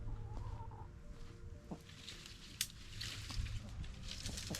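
Chickens in a backyard garden area give soft, scattered clucks at moderate distance against steady outdoor background noise, with occasional brief louder calls.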